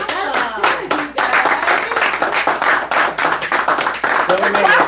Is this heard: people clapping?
yes